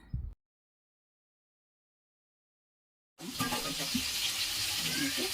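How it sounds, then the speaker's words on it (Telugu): Coriander, mint and green chillies frying in a pan for chicken biryani, a steady close sizzle that starts abruptly after a brief burst of sound and a long silence. "కొత్తిమీర, పుదీనా, పచ్చిమిర్చి మూడు వేసేసుకొని బాగా కలుపుకోవాలి. మంచిగా వేయించుకోవాలి."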